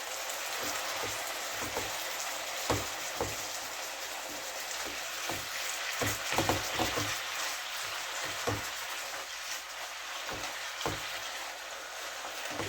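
Rabbit meat browns in a frying pan, giving a steady, fairly quiet sizzle like light rain, with scattered sharp pops and clicks from spattering fat or the utensil across the span and no talking.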